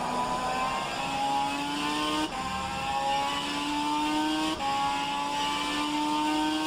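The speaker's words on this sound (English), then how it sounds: "Walrus, this is the Nissan GTR 500." Nissan GTR GT500 race car in rFactor 2, its engine revving steadily upward through the gears with two brief shift dips, loud and continuous with no talk.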